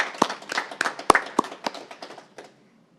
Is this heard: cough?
no